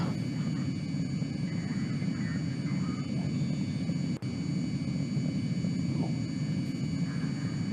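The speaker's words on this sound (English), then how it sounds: "the Harrier is a single-seat jet" A single-seat Harrier jump jet in a flight video game drones with a steady, faint engine hum and airy whine, constant throughout apart from one brief glitch, with no speech.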